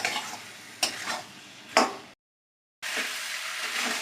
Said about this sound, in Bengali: এখন মাংসটাকে ভালো করে কষাতে হবে।